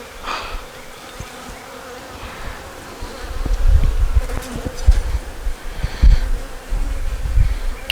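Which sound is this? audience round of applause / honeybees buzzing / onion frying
honeybees buzzing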